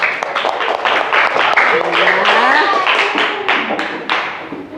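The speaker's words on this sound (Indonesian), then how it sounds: "Nah, tepuk tangan untuk kita semua." Schoolchildren in an elementary classroom clap together in a dense burst of applause. A teacher's voice speaks over the clapping, and the applause continues loud and steady throughout.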